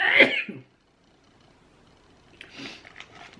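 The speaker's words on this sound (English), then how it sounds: "Oh, I'm going to sneeze." A single sharp sneeze bursts out at the start, followed by quiet and then a brief sniffling, throaty sound.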